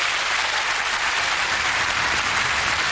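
Studio audience at a television awards show breaking into a big, steady round of applause, a dense, even roar of clapping hands with no talking over it.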